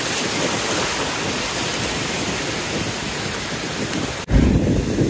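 Ocean surf rolls and hisses in a steady broadband wash with heavy wind buffeting, surging louder near the end as a wave breaks close by.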